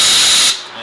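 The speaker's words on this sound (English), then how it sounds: "how I clear the chips is just by blowing some compressed air through there" Compressed air blasting chips out of a lathe-bored paintball barrel, a loud broad hiss that drops off abruptly to a quieter rush.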